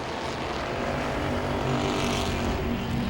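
Stock race cars lap Langley Speedway in a Super Streets race, their engines blending into a loud, steady roar from a distance, unbroken across the whole moment with no voices.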